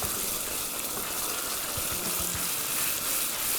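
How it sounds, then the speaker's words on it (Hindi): Warm sugar syrup trickles gradually into a pan of halwa, a steady faint hiss and wet gushing sizzle throughout, no voices. "अब ये सारा का सारा जो शीरा है हम ग्रेजुअली इसके अंदर ऐड कर देंगे"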